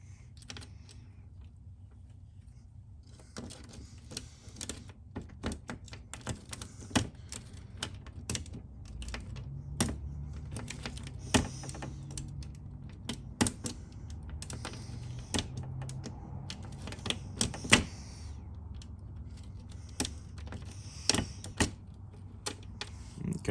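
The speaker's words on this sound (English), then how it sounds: "we're going to make a key for it using the Lishi clipper" Lishi clipper cutting a key blank in a locksmith shop, a long run of sharp metallic clicks and snaps at irregular intervals over a low mechanical rumble, close and fairly loud, with no talk.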